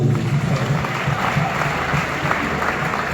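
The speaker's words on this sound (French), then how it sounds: "Applaudissements pour Hiro." An audience applauds for a few seconds at a screening event in Kinshasa, a dense, steady wash of clapping hands without pause.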